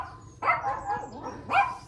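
Dogs bark and whimper close by indoors, two sharp bark bursts with whiny yelping in between, loud and alone without talking.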